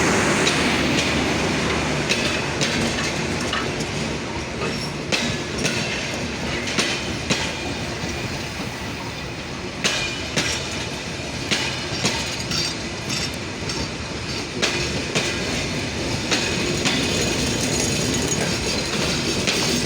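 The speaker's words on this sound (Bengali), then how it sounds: "খালি ঠ্যাক ঠ্যাক ঠ্যাক ঠ্যাক আওয়াজ," Carriages of the Simanto Express roll past at Parbatipur Junction, a continuous close rumble with rhythmic clickety-clack of wheels over rail joints and occasional brief squeals, steady and loud throughout.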